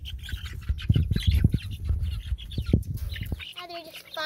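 Chickens fighting over feed squawk and cluck in a busy, noisy jumble close by, with sharp irregular calls; a voice briefly speaks near the end.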